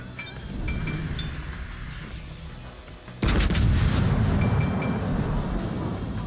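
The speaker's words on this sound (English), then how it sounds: "I'd like to see who shoots at me." Video game gunfire: a run of rapid shots that suddenly turns louder and denser partway through, with heavy booming impacts and chaotic noise behind.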